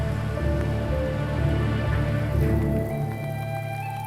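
Steady rain falling in the Muir Woods redwood forest, a dense continuous patter close by with constant low rumble underneath, no voices.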